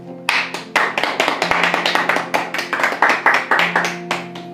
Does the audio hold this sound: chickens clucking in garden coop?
no